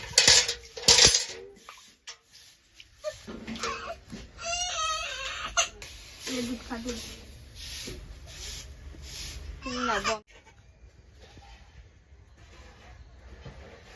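A cloth or utensil wipes and scrapes across a hot clay pitha pan after salt has been roasted in it, making close rubbing and scraping sounds, with a few brief hisses and metallic knocks.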